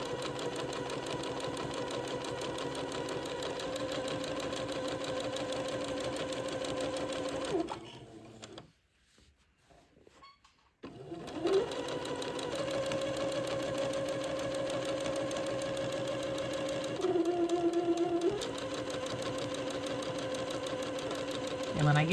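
A sewing machine stitches a French seam on a child's day gown, a steady close mechanical whir and hum that runs continuously, drops out briefly in the middle, then resumes with shifting pitch.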